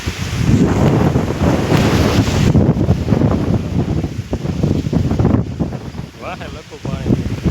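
Strong wind blows across open ground in a village, roaring and buffeting the microphone in a loud, continuous rush, with muffled voices briefly audible near the end.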